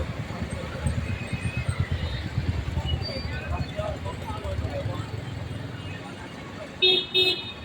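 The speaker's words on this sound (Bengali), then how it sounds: "মাঝে মধ্যে দুইটা তিনটা যানবাহন চলাচল করছে" Light traffic on a nearly empty Silchar street near Nahata Point on a very hot day: a steady low road rumble runs under a man's speech, with a short pair of car-horn toots near the end.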